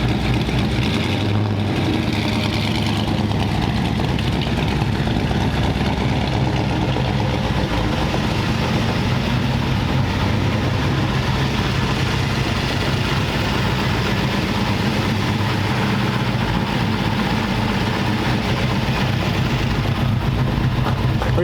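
A 1934 Ford Sedan Delivery idles steadily just after starting, a loud, continuous low rumble with an even, unbroken drone throughout and no voices.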